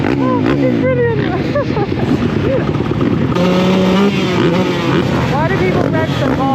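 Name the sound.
motocross motorcycles revving engines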